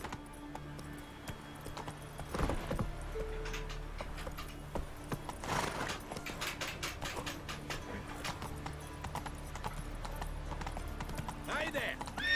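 Hooves of Roach, the horse in The Witcher 3: Wild Hunt video game, clip-clop in a steady, close rhythm throughout, with mechanical ticking, low hum and a few louder thumps, while voices speak over parts of it.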